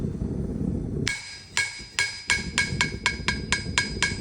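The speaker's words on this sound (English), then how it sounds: "what I talk about when I'm saying my anvil" Hammer strikes on a blacksmith's anvil, about a dozen bright ringing blows in a steady, quickening rhythm, close and loud, following a second of low rumble.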